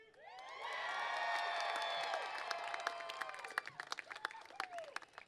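A graduation audience at the MiraCosta College 2019 commencement cheers loudly, with high whoops and shouts over a steady crowd roar, then breaks into scattered, uneven clapping.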